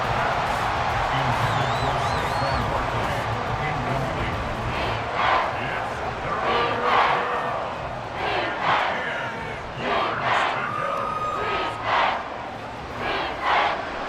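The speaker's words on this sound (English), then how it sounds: "The Arrowhead crowd in full roar." A stadium crowd roars at Arrowhead Stadium in the Madden NFL 24 football video game, a sustained dense roar that swells in repeated surges, with a commentator talking over it.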